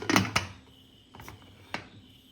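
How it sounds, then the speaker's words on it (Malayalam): A pressure cooker lid being closed over taro (chembu) cooking in water, giving a few close metallic clicks and a short scrape, with quiet gaps between them. "നമുക്ക് കുക്കർ അടക്കാം"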